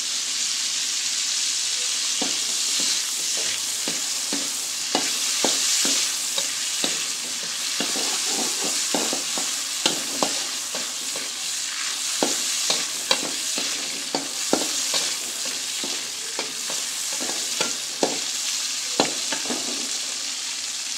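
Steady crackling sizzle of food deep-frying in dirty hot oil, with scattered sharp pops and spatters throughout, close and continuous, no voices.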